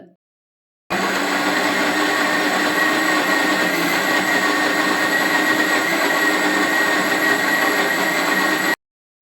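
A loud electric mixer grinder whirs continuously for several seconds grinding spice paste for sardine curry, starting abruptly after a short silence and cutting off sharply.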